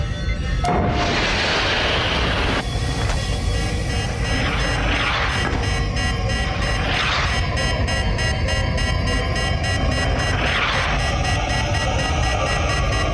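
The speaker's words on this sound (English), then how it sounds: "if we wanted to fire a torpedo, right now I only have it set for the homing torpedo. Fire!" A homing torpedo is fired in a Star Trek app running on a Raspberry Pi 4. It plays as a loud, sustained sci-fi blast with a sharp onset and a few rushing swells repeating over a steady roaring bed.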